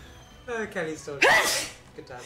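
A single sharp, close sneeze bursts out in the middle of casual talk during a live Pokémon game stream, louder than the surrounding speech.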